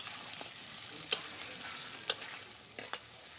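Chicken pieces sautéing in oil in a pan, a steady close sizzle with a few sharp stirring clinks and scrapes of the spoon against the pan.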